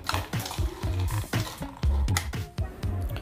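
Spoons clatter and scrape in a bowl as a healthy Indian chaat salad with green chilli and chopped coriander is mixed, giving a string of close, irregular clinks and stirring knocks with no talk.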